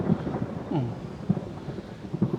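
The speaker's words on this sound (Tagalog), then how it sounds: "Tapos, lakas ng kulog." Loud, close thunder rumbles and cracks during a rainstorm, with rain falling steadily throughout and no voices.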